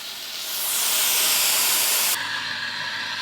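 A loud, steady steam hiss from an espresso coffee machine in a cafe that swells, holds for a couple of seconds, then drops abruptly to a softer hiss.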